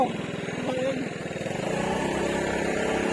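A motorbike engine drones steadily as it climbs a steep hill road near a Pattaya viewpoint in Chonburi, the note thickening and straining toward the end, while riders talk over it.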